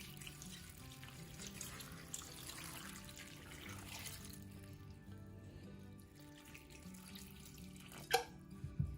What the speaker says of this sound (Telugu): చింతపండు మునిగేంత వరకు కూడా నీళ్ళను పోసుకోవాలి